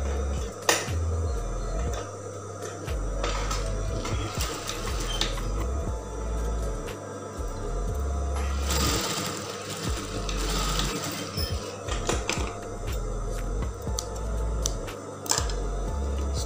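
A sewing machine stitches the hem of a half-circle skirt, its steady mechanical whir running close and continuous with brief pauses and clicks, no talking.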